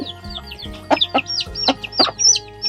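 Chickens, including a rooster, clucking and squawking in short agitated bursts while being caught at a rural home, close and fairly loud with no talk.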